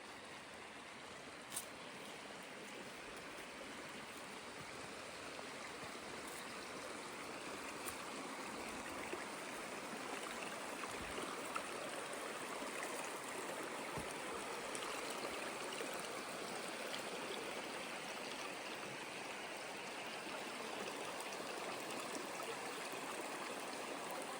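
Water flows steadily in the Stryi river near Truskavets with a constant broad rushing and babbling. It sounds close and even, with a few faint clicks and no talking.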